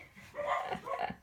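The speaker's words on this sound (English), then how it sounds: "I'm sorry for the dogs barking" Dogs bark and yip a few times at moderate distance, a short excited burst of barking with no talking.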